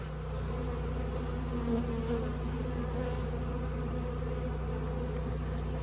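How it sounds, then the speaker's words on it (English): A honeybee afflicted with deformed wing virus drones in a steady, close buzz that holds unbroken for several seconds with no other sounds. "Here's a deformed wing virus bee."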